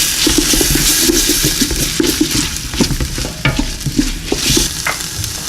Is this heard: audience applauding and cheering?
no